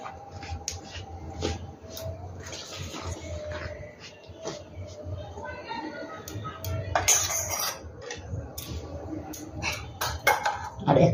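Rice flour and a pinch of salt being stirred together in a bowl for patishapta, with steady scraping and clinking of a utensil against the bowl and a few louder clatters near the end.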